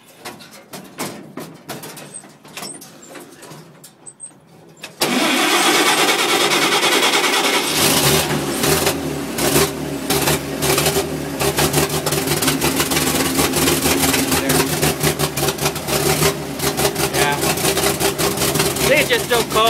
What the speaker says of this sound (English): now it's just idling on its own